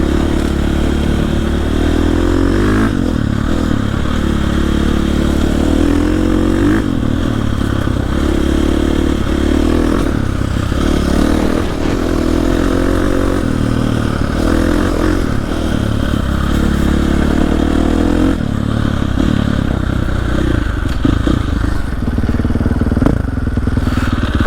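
A dirt bike riding trails in central Maine, its engine droning loud and steady throughout, with gear changes, throttle swells and rattling clatter from the rough ground, and no talking.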